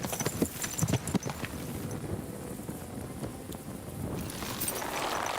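Horse hooves clip-clopping in a video game, a run of sharp hoof knocks early on that fades into soft wind and ambient rustle, with no talk.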